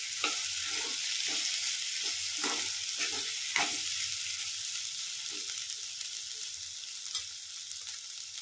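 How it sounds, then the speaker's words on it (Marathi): Finely chopped eggplant fries in a hot pan for a spicy village-style bharit, a steady sizzle running throughout with scraping stirs and spoon knocks at irregular intervals, close and moderately loud, no voices. "आता हे वांगे टाकते बारीक करून घेतलेले. छान मिक्स करून घेऊ आपण."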